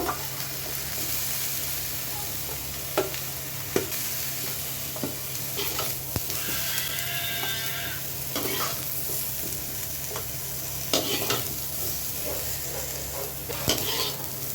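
Cauliflower pieces fry in hot oil with a steady sizzle, while a spatula stirs and scrapes the pan in sporadic sharp knocks close by.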